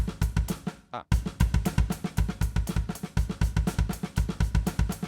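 A steady drum groove with evenly hit kick, snare and hi-hats, every snare at the same level, giving a flat, mechanical feel with a brief dropout near the start.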